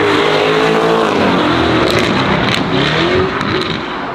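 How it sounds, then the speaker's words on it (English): Lamborghini Urus fitted with a Novitec exhaust, heard from inside the cabin as a loud, sustained engine roar with rising and falling revs, with no one talking over it. "that is very loud still"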